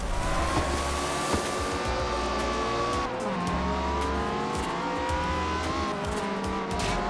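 A Ferrari FF engine in the Forza Horizon racing game revs and climbs through its gears with audible shift drops, while tires squeal now and then. It stays loud and close throughout, with no talking.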